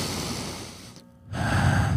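A voice imitating a sharp, frustrated intake of breath: a short gasping inhale followed by a pause and then a louder breathy rush, close and alone.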